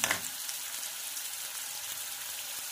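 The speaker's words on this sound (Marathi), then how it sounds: "आणि छान असं फ्राय करून घ्यायचं आहे आपल्याला।" Green chillies fry in a pan for upma, a steady high hiss of sizzling oil that starts with a brief louder crackle and then stays even throughout.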